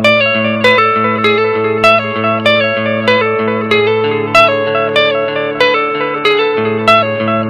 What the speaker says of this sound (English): smooth, warm delay sound.